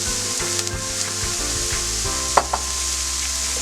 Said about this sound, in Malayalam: ഇനി നമുക്ക് ചെറുതായിട്ടൊന്ന് മിക്സാക്കി കൊടുക്കാം